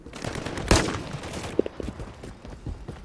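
Pistol gunshots in a video game ring out, one loud shot followed by a quick burst of sharper, smaller pops in uneven succession amid game noise.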